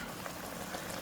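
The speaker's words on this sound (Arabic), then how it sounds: "نضيف شوية مية مغلية يا دوبك تغطي اللحمة" Pot of kebab halla beef and onions, just covered with added boiling water, simmering with a steady dense bubbling and gurgling hiss, close and continuous, with no talking.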